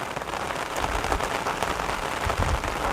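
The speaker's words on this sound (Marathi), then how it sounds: "तरी जोरदार पाऊस चालू आहे" Heavy rain pouring steadily in Nashik, a dense, even hiss of drops striking surfaces, close and continuous for the whole stretch with no voices.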